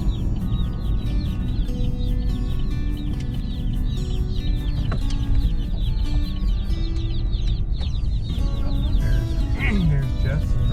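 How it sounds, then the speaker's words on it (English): Young meat chicken chicks peep in high, rapid chirps on a homestead as they are brought to a brooder, heard over a heavy low rumble with occasional voices. "Let's see if we can't get a hold of Jess, get these chicks in the brooder."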